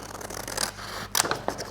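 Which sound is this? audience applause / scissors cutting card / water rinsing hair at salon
scissors cutting card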